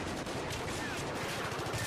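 Rapid automatic gunfire from the video game Battlefield 3, dense overlapping bursts of shots crackling continuously and loudly for a couple of seconds with no pause.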